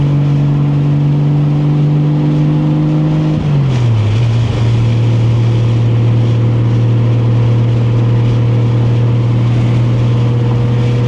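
A 1989 Toyota Supra engine drones steadily with a strong harmonic hum, its pitch dropping sharply around a shift and then holding a constant loud tone, heard from inside the car with no talk.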